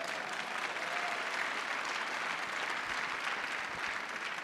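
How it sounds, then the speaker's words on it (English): An audience at a National Space Council speech applauds, a continuous wash of clapping heard from a distance, steady for the whole stretch. "That deserves a round of applause, by the way."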